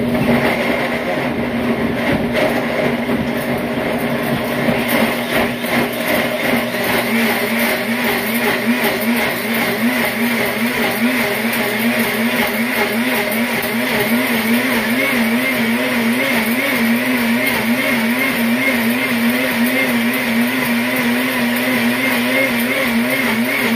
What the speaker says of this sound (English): About to turn the blender on.